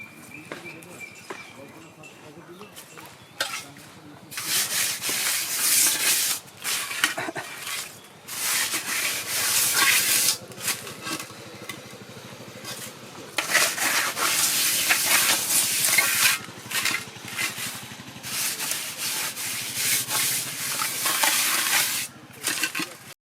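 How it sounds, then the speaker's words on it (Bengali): Wet mud being rubbed by hand onto a cooking pot before it goes over a wood fire: repeated close scraping and smearing strokes in bursts, interspersed with a person talking. "একটু হাঁড়িটাতে একটু মাটি লাগিয়ে দিই তাহলে কালি লাগবে না"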